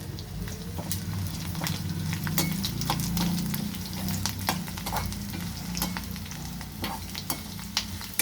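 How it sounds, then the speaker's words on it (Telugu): Ingredients for restaurant-style curd rice sizzle steadily in a pan while a spoon stirs, with frequent scraping clicks over the continuous frying hiss, close by and without talk. "తర్వాత స్టవ్ ఆఫ్ చేసుకొని అంతా ఈవెన్గా వేగేలాగా వేయించుకోవాలండి"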